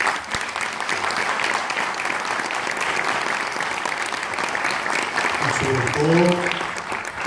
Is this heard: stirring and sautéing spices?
no